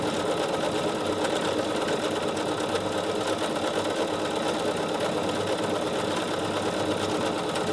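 A Bernina 7 Series sewing machine stitches continuously at a steady, rapid, even pace, its close mechanical whir and rattle running unbroken throughout with no talk.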